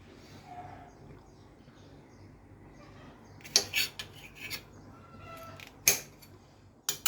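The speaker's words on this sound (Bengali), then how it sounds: "আমি কাটছি প্রায় কাটা শেষ আমার ভেন্ডি" A knife chops okra on a cutting board in a home kitchen, giving a few sharp, sparse cuts and scrapes in the second half that follow a quiet, low-level start.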